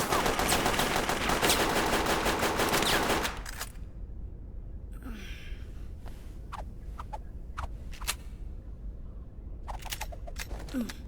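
Gunfire from the video game Xenosaga Episode 1: a dense, loud burst of rapid automatic shots that cuts off abruptly, followed by quieter scattered sharp clicks and thuds.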